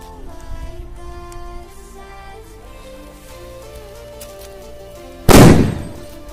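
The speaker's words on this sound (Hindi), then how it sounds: "अब हम टेस्ट करने वाले लोकल सोतेली बम को" A local sutli bomb firecracker goes off with one sudden loud bang. Quieter background noise with steady tones comes before it, and the blast trails off briefly afterward.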